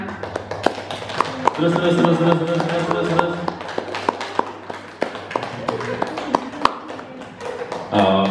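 People in a class exercise clap their hands in scattered, uneven bursts of sharp claps, with someone talking over and between them.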